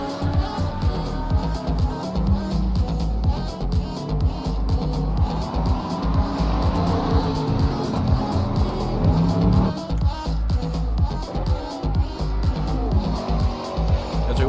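GT race cars, a McLaren among them, roar continuously around the Dutch Grand Prix circuit in the GT World Challenge, with engines revving and tires squealing through the final corners, close and loud.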